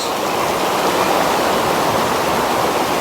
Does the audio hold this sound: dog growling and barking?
no